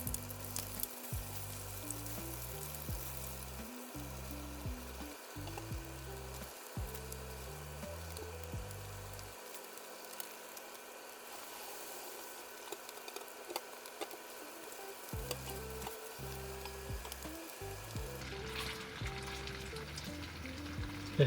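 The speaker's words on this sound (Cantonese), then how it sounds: "然後將啲雞逐件擺上去煎。" Chicken pieces pan-fry one by one in hot oil over medium heat, giving a steady, fairly quiet sizzle with occasional light knocks and scrapes throughout.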